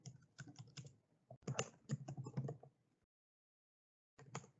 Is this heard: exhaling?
no